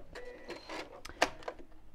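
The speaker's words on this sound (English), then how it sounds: "Just finish off sewing around the top there." A sewing machine stitching around the top of an insulated lunch bag, a short close mechanical whirring run with a couple of sharp clicks, no talking.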